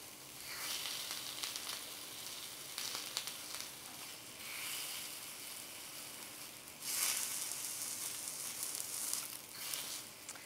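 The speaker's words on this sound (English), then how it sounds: "I like the idea of charring the chilies slightly" Chillies char and sizzle in a hot pan, a soft steady hiss with faint crackles and swells as they are pressed down, no talking.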